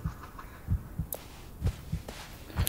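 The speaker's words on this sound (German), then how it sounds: "Der Herzschlag kommt." In the horror video game Blair Witch, a heartbeat effect thumps in low, soft double beats at a steady pace, with faint ambient noises scattered over it.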